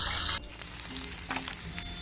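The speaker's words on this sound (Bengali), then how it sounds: "আমার মাছ ভাজা শেষ এখন ফ্রাই প্যান থেকে উঠিয়ে নিচ্ছি" Fish fries in hot oil in a frying pan: a brief burst of loud sizzling fades to a quieter, uneven crackle over a couple of seconds.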